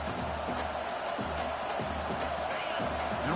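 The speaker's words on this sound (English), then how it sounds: "Wow, listen to this crowd noise. This stadium is vibrating." A packed college football stadium crowd roars during a Texas game, a loud, dense wall of cheering noise that holds steady throughout with no clear voices on top.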